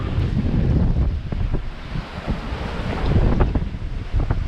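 Strong wind buffets the microphone in loud, gusting rumbles, with waves washing and splashing around a moving sailboat nearing an island in Cape Verde.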